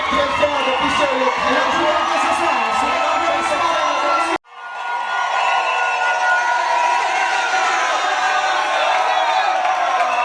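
Wedding guests at a civil and customary ceremony cheer, whoop and clap loudly as a dense crowd. The roar cuts off abruptly midway, then quickly swells back to full, sustained cheering.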